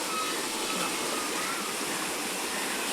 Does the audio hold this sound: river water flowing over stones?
yes